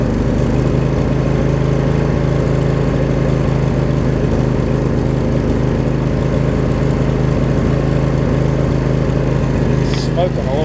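A Craftsman lawn mower with a Briggs V-twin engine, a balky carburetor and cold running, drones at a steady idle throughout, loud and close, with an even low hum and no change in pace.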